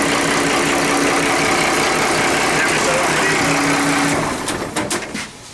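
An inboard engine on an Albin 28 boat idles roughly and steadily at low RPM during an engine test, then fades near the end as clicks and knocks take over.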